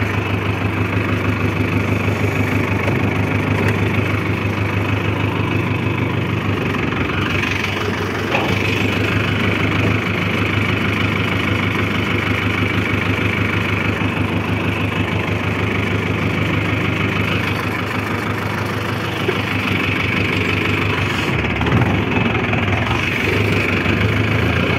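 A 5911 tractor idles in cold weather, its engine holding a steady, loud, unbroken drone close by for the whole stretch, with only slight shifts in tone.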